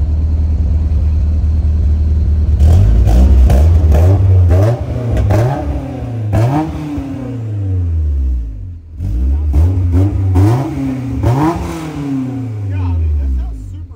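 A supercharged Honda S2000 with a new twin-disc clutch revs repeatedly, its engine rising and falling in pitch in loud close sweeps with a rumbling idle between, while people talk over it.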